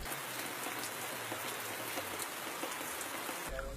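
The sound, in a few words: heavy rain on a thatch roof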